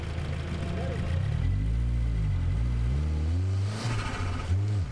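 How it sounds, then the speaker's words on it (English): A 2020 Subaru WRX's engine heard from inside the engine bay during a wet autocross run, revving and dropping with gear changes in rising and falling sweeps, loud and close. "get the engine bay audio on again, and me driving through"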